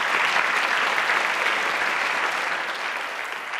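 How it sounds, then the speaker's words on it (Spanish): A large conference audience gives a big round of applause, dense continuous clapping filling the room at full strength before easing off slightly toward the end, with no voices. "Un gran aplauso."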